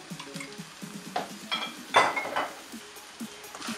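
Coconut squid roast with curry leaves stirred in a pan, a spoon scraping and clinking against the metal in quick uneven strokes over a faint sizzle, close and clear with no voices.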